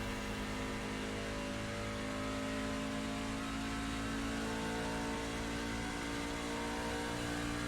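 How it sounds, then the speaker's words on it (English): A race car engine in the iRacing sim roars loudly and continuously as it accelerates down a back straightaway, a dense steady drone with no talk over it. "back to the gas, and blast down the back straightaway"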